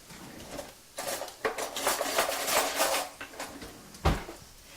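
Sauce thickened with cornstarch being whisked in a pan, quick metallic scraping and clinking strokes in bursts, with a sharp knock of the whisk near the end.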